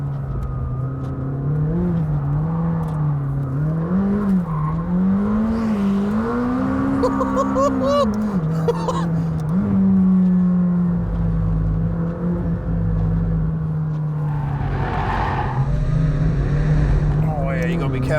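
A McLaren 600LT's turbocharged engine pulls hard on track, a loud continuous drone that rises and falls through revs and gear changes, heard from inside the car with a voice talking over it.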